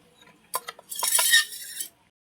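Salt, turmeric, and fenugreek and mustard powders for green chilli pickle being stirred together in a metal bowl: a few light clinks and taps, then a brief scraping swirl of spoon against metal, close and quiet.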